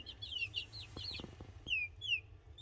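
Young chickens about three weeks old, growing in feathers in a backyard coop, give soft clucks and thin high peeps in short bursts, close by, with light knocking sounds in the middle and no talk.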